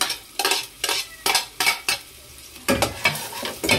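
Onion and garlic sautéing in a pan, with a spatula scraping and clattering in a regular stirring rhythm over a steady sizzle, close and loud, no talk.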